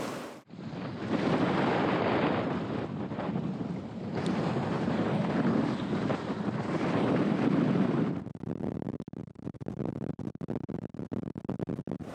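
Strong storm wind on an anchored sailboat roars and buffets the microphone in a continuous loud rush, then eases into gusty, crackling bursts near the end.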